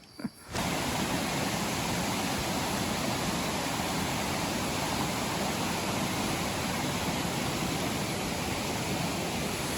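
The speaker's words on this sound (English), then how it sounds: "So we've reached the waterfall." Waterfall rushing in a Thai jungle, a steady, loud broadband roar of falling water that starts abruptly and continues unbroken throughout, with no voices.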